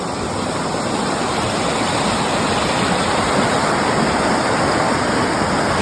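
The Menik Ganga river flows past in a dense, constant rush of water that sounds broad and close. It stays steady throughout with no voices.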